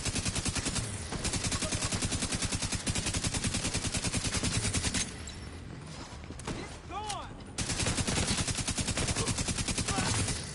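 Rapid, sustained automatic turret fire in The Division 2 rattles on loudly and continuously. It dips briefly mid-way and is joined by whooshing and mechanical sounds before the dense volley resumes.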